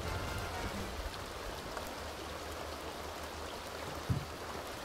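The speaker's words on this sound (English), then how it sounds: "Okay, but it's raining everywhere inside" Steady rain falling everywhere inside a new house in The Sims 2 life-simulation game, a constant hissing patter with no voices, one small thump near the end.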